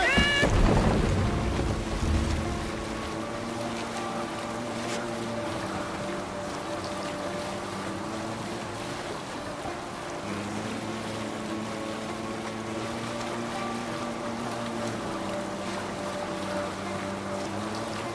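A Viking longship under sail in Assassin's Creed Valhalla, with steady rushing water and wind beneath low droning tones, opening with a loud rumbling surge that settles into a constant wash.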